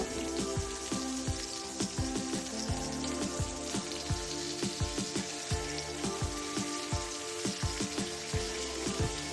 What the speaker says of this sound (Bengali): সব মশলাগুলোকে আমি আবার হালকা একটু ভেজে নেব